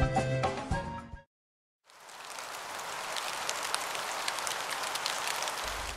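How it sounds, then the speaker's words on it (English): Steady rain falling in Singapore, a dense even hiss of drops on surfaces that starts abruptly after a brief silence and continues unbroken, following a short burst of unrelated tonal sound at the very start. "It was rainy out"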